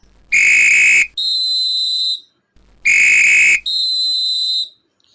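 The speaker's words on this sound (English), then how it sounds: "So, now you listen to the whistle." A referee's shrill whistle sounds twice, each time a trilling blast followed by a steadier, higher tone, with brief silence between the pairs.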